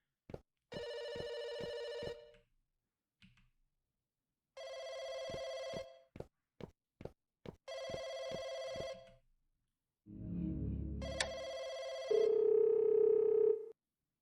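A telephone rings in a household in repeated bursts of bright electronic trill, separated by short pauses, then gives way to a lower rumble and a steady tone near the end, with no talking.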